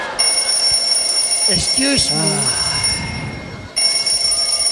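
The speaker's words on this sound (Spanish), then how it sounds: "Ah, es su teléfono." A telephone ringing on stage at a comedy show at the Viña del Mar festival, a steady electronic tone sounding in the background, pausing while someone speaks briefly and then resuming.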